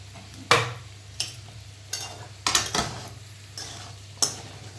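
Tindora (ivy gourd) shaak cooking with masala in a pan, giving a low steady sizzle broken by several sharp scraping stirs of a spoon against the metal, spaced irregularly, with no voices.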